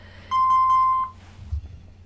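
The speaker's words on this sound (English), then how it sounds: "Sorry about the alarm going off." An electronic alarm gives one loud, steady beep lasting under a second, then cuts off to a quiet room hum with a faint knock afterward.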